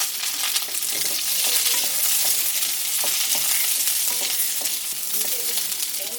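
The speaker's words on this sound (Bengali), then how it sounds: "প্রথমেই আমি এই গোটা পেঁয়াজগুলোকে একটু ভেজে নিচ্ছি।" Whole onions fry in refined oil in a pan for chicken dopiaza, giving a constant close bright sizzle broken by small stirring clicks and pops, with no voices.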